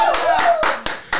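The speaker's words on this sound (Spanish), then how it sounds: "¡Aplauso por la guitarra!" A short burst of hand clapping from a few people, with sharp repeated claps over a faint sustained tone.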